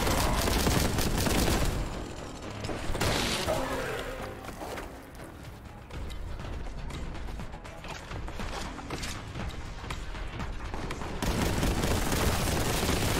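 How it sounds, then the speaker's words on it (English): In a Warhammer 40,000 video game, a bolt gun fires and grenades explode against a Chaos Space Marine, making dense bursts of gunfire and booming blasts. Mechanical clanks and rattles run through the loud, continuous action. "So I usually just use grenade on a Chaos Space Marine"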